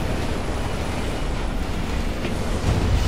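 A subway train in the video game Resident Evil 6 gives a steady, loud rumbling roar that holds constant from start to finish, with no talk over it.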